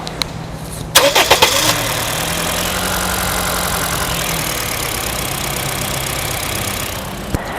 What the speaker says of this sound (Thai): เสียงเครื่องนะครับ ผมบอกเลยว่านิ่งมากเงียบมาก